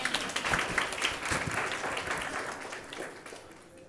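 Audience clapping at a church sermon, a burst of scattered claps that thins out and fades over a few seconds, moderately distant in a reverberant hall.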